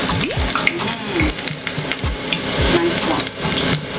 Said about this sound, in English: I'm gonna drop a piece of onions in the oil to show that the oil is hot